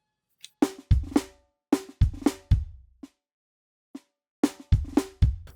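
Sequenced drum groove with booming kicks and crisp snares in short clustered phrases, plus a few faint isolated ghost-note snare taps in the gaps, dry and upfront with no voice.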